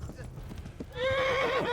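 Horse hooves clip-clopping at a gallop in the medieval game Kingdom Come: Deliverance, with a loud whinny rising over the hoofbeats in the second half and brief sounds of the rider underneath.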